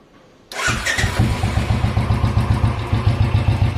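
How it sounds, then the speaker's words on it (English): A Royal Enfield Classic motorcycle with a SANS Bottleneck exhaust starts abruptly after a quiet moment, then settles into a close, steady, bassy thumping idle with an even pulsing beat. "I'll just start up my bike so I can let you hear their voice."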